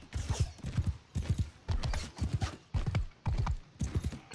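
Horse hooves gallop in Mount and Blade 2 Bannerlord, a rapid, rhythmic run of clip-clop beats in repeated bursts, close and prominent without talking.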